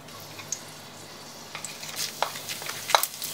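Cumin seeds sizzling in hot oil in a pan that already holds two dried red chillies, cooking for Bengali mixed dal: a faint steady hiss builds into scattered crackles and louder pops over about three seconds, with no voices.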